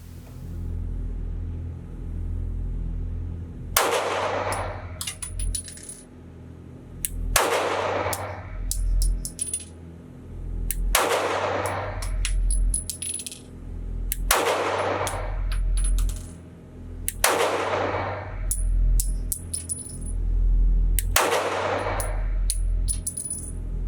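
Six single shots from a Sig Sauer P365 pistol at a shooting range, loud and close, spaced roughly three to four seconds apart, each with a sharp crack and a short ringing tail over low rumble.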